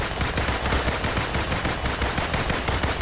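Fast, dense gunfire from Marvel's Avengers, an unbroken rapid machine-gun rattle filling the whole stretch, loud and close with no voices.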